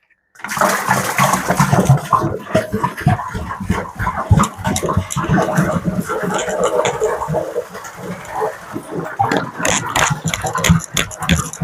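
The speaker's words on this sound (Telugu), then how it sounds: "ఇప్పుడు ఇందులోకి వాటర్ ఫిల్ చేసి ఫిషెస్ని రిలీజ్ చేద్దాం." Water gushes and splashes loudly and continuously, a heavy churning pour into a large aquarium tank, with rumbling and bubbling throughout.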